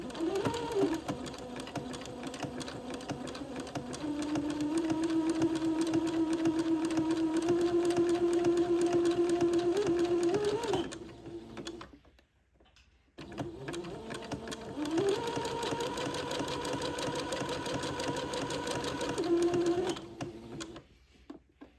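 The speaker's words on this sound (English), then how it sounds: "I'm going to sew along this entredeau ladder" A sewing machine stitches entredeau lace onto a bonnet's front brim, running in a steady rapid whirr for several seconds, stopping briefly, then starting up again for another run.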